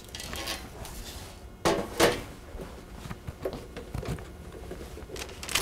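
A metal baking pan for pain de mie is shifted aside in a kitchen, giving a couple of sharp clanks followed by lighter knocks and scrapes over quiet room tone.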